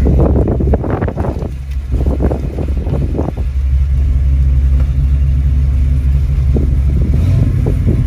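Engine of a 1970 Ford Mustang Boss 302 under restoration runs with a steady low rumble, buffeted by heavy wind noise and rough bursts in the first few seconds, then settles into an even drone.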